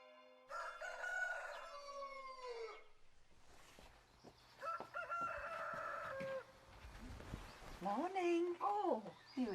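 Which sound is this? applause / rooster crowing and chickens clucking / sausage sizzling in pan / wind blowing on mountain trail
rooster crowing and chickens clucking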